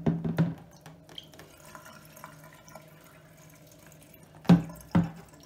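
Water from the drawer of a Samsung clothes dryer poured into a sink, with faint trickling and dripping between two sharp splashing bursts at the start and two more near the end.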